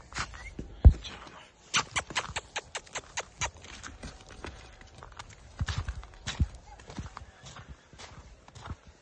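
Hooves of a black colt clop and thud on the ground in irregular bursts of steps, close by and moderately loud, with quiet gaps between, and no voices over them.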